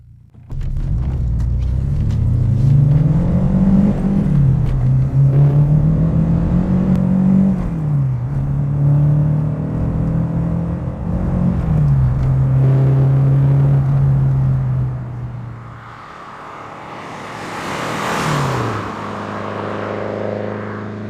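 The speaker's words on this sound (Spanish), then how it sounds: "Vamos a ver cómo se siente cuando pongamos a trabajar este pequeño" A 1989 Renault 5 GT Turbo with a 1.4 turbocharged engine revving hard while driving, the engine note rising and falling through several gear pulls, loud and close, before easing off into a quieter rumble.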